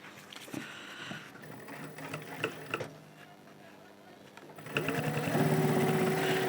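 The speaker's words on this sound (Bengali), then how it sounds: "মুখটা এইভাবে সেলাই করে নেব" A sewing machine stitches the mouth of a nonwoven fabric bag, first with soft, scattered taps and then in a louder, steady mechanical whir near the end.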